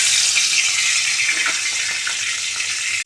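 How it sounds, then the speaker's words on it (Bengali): Fish frying in hot oil in a home kitchen, a continuous loud sizzle and crackle that holds steady for a few seconds before cutting off abruptly. "মাছ ভাজা শুরু করে দিলাম।"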